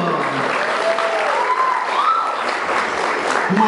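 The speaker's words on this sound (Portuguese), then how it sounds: "eu também gostaria de uma salva de palmas" Loud, sustained applause from an audience at an artistic performance event in Caxias, Brazil, a thick continuous clatter of clapping with faint vocal tones under it.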